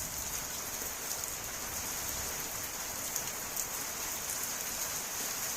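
Heavy monsoon-season rain falling over wheat fields just before harvest, a steady dense hiss of drops on surfaces that stays even and unbroken throughout, with no voices.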